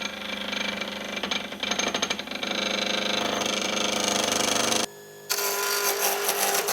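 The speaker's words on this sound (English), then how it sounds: "I used the roughing gouge to round out the blank" Wood lathe, a NOVA Comet II, spinning an ice cream scoop handle blank while a roughing gouge rounds it, giving a steady loud whirring hum with scraping chatter, a brief pause, then resuming.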